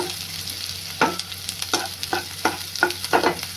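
Wild greens tossed in a pan with onion and okra frying in a little oil, with a soft sizzle broken by a series of distinct scraping stir strokes that quicken toward the end.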